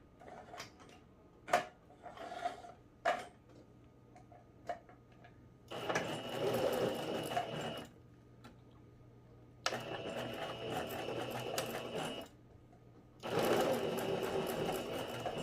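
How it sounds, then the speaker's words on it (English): Sewing machine stitching ribbon onto a tulle tutu, running in three sustained bursts of steady mechanical whirring separated by pauses, with a few sharp clicks and taps before the first run. "when you start sewing, you're going to go forward and back and forward and back to secure your stitch"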